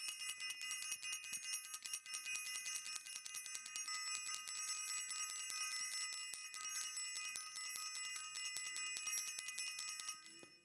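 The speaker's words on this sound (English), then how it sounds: "I want to ring the bell." A small bell, like a bicycle bell, rings rapidly and continuously for about ten seconds, with bright, steady high tones in a repeated tinkling rhythm and no speech over it.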